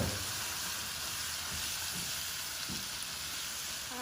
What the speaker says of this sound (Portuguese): junto com a gordura do bacon, pra gente fritar de novo essa carninha que já está assada